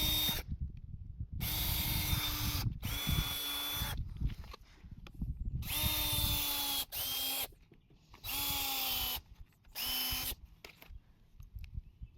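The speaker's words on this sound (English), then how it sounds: "I'm going to drill 2 pilot holes about 1 inch apart or so" A power drill whines up in several short bursts, pitch rising and falling as it bores pilot holes into 2x4 lumber, with brief quiet gaps between runs.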